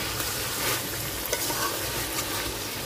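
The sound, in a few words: chicken being sautéed and stirred in a pan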